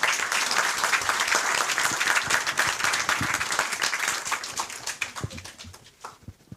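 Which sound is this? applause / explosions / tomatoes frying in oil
applause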